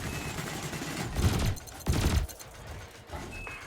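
Ship cannon and laser fire in the Elite Dangerous space game, a run of rapid bursts with two heavier thumping volleys close together amid a continuous rumbling engine drone.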